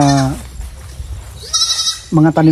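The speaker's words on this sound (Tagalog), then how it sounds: "Ang ingay-ingay ng maliit na kambing na ito." A small goat, a neighbor's livestock, bleats in short wavering cries, one at the start and a doubled call near the end, fairly close, with quiet outdoor noise in between.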